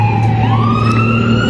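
A fire truck siren wails loudly with a rising tone over a rumbling engine, sustained and fairly close.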